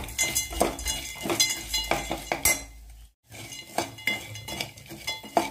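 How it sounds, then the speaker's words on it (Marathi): A spatula clinks and scrapes against a pan while drumstick vadis are turned in an onion and coconut masala paste, with rhythmic metallic knocks broken by a brief pause midway. "या वड्या या मसाल्यामध्ये छान परतून घ्यायच्या"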